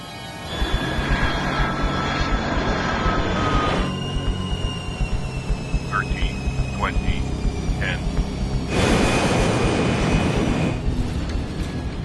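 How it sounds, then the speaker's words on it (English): Jet airplane landing: a sustained engine roar with a thin whine gives way to a few short squeaks, then a louder surge of broadband rushing noise before settling back to a steady drone. "It's a textbook landing. Flaps up."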